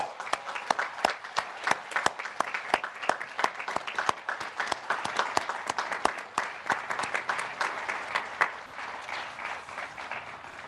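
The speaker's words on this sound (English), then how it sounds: "Please join me in applause." Audience applause at a 2021 academy commencement ceremony, with some sharp, close individual claps over a dense crowd clapping that fades toward the end.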